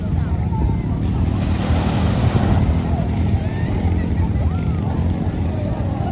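Sea waves wash onto a clean sandy beach in Zambales, a continuous low surf roar with wind buffeting the microphone, steady and fairly loud.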